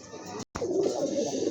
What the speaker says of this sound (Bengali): মাশাআল্লাহ অনেক বড় সাইজের এক জোড়া কবুতর